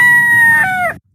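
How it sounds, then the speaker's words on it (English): A single rooster crows once, loud and near, in a short sustained call that falls away abruptly at the end, heard alone. "Just then, a rooster came along."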